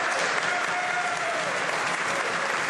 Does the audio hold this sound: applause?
yes